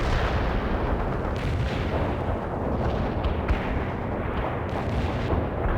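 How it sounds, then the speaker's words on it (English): Artillery barrage in the PC strategy game World in Conflict, a dense, loud, continuous rumble of booming impacts and blasts, with sharper hits standing out now and then and no voices. "Artillery strike on the way."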